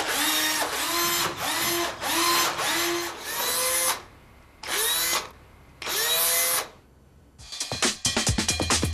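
Power drill in a TV advert, revving in a series of close, loud bursts with pitch swoops as it spins up and down, followed by a rapid rattling burst.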